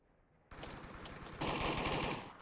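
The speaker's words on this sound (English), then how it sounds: "Shots from Nullist." Rapid automatic gunfire rattles in the VR shooter Onward during a competitive match, starting abruptly after half a second of quiet, then growing louder and denser in a sustained burst.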